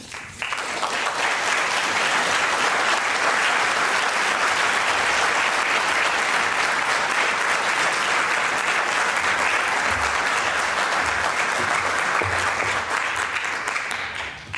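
An audience gives sustained, loud applause after a speech at a lecture series, dense clapping from a large crowd that holds at full strength for about fourteen seconds before easing off.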